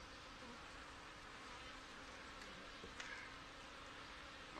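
Honey bees buzzing around a nuc hive while nurse bees are added, a dense, steady hum filling the clip with no pauses and a soft tap near the end.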